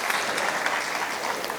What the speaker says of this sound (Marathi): एकदा जोरदार टाळ्या या चौघांसाठी होऊन जाऊ द्यात